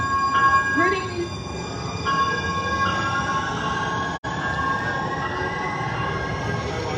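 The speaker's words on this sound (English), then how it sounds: "Train gets in the way sometimes of the noise." A train rolls past in a continuous, fairly loud rumble with steady wheel noise throughout, near an outdoor public gathering in support of a homeless encampment, with a voice faintly audible at times.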